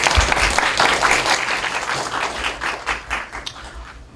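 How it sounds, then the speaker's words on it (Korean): An audience at a talk applauds, dense steady clapping from many hands filling the room for several seconds and slowly tapering off. "박수 한번 쳐주세요"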